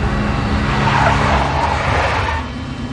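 A big black Mercedes skids in the Max Payne Mobile video game, a steady loud tyre squeal with engine noise running for about three seconds, easing slightly near the end.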